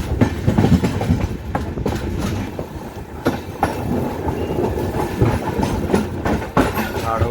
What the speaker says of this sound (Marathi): सो ट्रेन निघाली आपली वैभववाडीवरून, आता राजापूरला थांबेल.